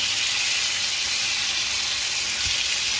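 Garlic steak pan-searing in a hot pan gives a steady, loud, close sizzle with continuous crackling hiss and no talking.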